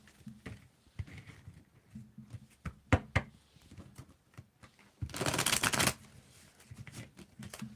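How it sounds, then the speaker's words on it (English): Tarot cards being shuffled up close: scattered taps and handling sounds, then a dense riffling burst of a couple of seconds, followed by a few softer taps. "Let me just give it a little bit of a shuffle here"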